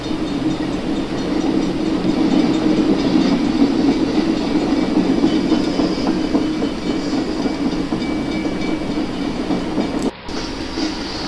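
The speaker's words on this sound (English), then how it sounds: "get a continuous train running that will represent multiple trains heading north towards Selkirk on the river line" A model railroad train runs continuously on a layout, giving a steady rumbling roll with faint rhythmic clicking of wheels on track and a brief dropout near the end.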